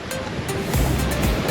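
Big ocean waves rush and surge around a sailing yacht crossing the Pacific at high speed, a continuous loud wash with wind noise and swelling bursts of spray, no voices.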